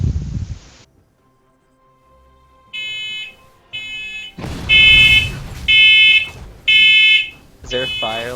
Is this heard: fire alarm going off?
yes